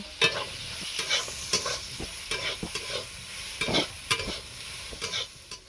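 Soybean chunks frying in white oil with salt and turmeric, a continuous close sizzle broken by repeated scraping strokes of a spatula stirring the pan.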